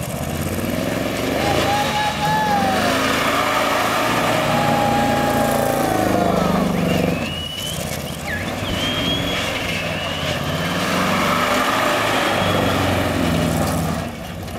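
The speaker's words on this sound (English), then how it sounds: "I think they're just gonna see if they can do a little bit of a wheel spin with us" A 5.7 V8 car spins its wheels at a rally in Cradock, South Africa, giving a loud, sustained engine roar with rising and falling revs over nearly fifteen seconds, close to the listener, with voices mixed in.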